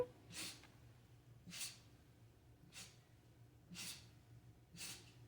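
A small pet named Freddie makes five quiet, sharp snorting puffs of breath at roughly one-second intervals, close by in an otherwise still room.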